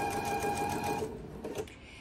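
A sewing machine stitches pieces of quilt fabric, its fast, steady whirring rattle sounding close and clear for about a second before slowing and stopping with a few faint mechanical clicks.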